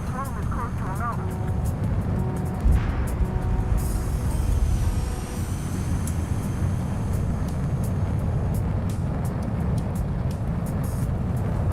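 Fighter jet in Ace Combat 7 flying close to a mountain: a steady, loud engine roar and rushing wind continue throughout, with radio chatter and a voice talking over it.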